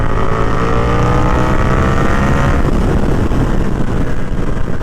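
A 1290 sport motorcycle runs at high speed down a highway, its engine note a loud, steady drone blended with heavy wind rush, continuous and unbroken throughout with no talk.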